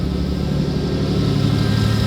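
A Ford Fairlane engine, freshly fitted with a stage 4 turbo cam and double-row valve springs, idles cold at raised revs with a steady, even, loud rumble and no talk over it.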